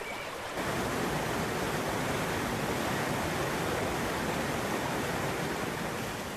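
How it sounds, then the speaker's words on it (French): Swollen streams turned to torrents after heavy rain, a loud, steady rush of tumbling water that fills the whole clip without pause. "Les ruisseaux se sont transformés en torrents. L'eau dévale en tourbillonnant"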